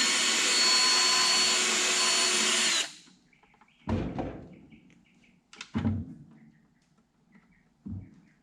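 A power drill bores a hole in a plastic bucket on a farm, a loud, steady whine for about three seconds that stops abruptly, followed by several sharp knocks and clunks from handling.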